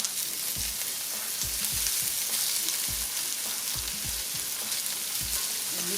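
Pisupo corned beef is stirred into onions frying in a pan, giving a constant dense sizzle close by, broken by soft repeated thumps and scrapes of the utensil.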